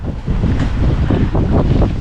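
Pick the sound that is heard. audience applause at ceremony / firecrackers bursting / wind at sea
wind at sea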